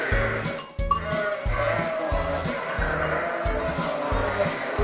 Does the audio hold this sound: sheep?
yes